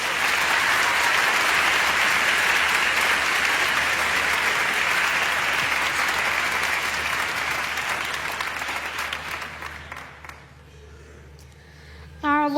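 An audience applauds a young Quran reciter, loud, dense clapping that holds steady and then thins out and fades, followed by a short quiet stretch. A voice begins at the very end.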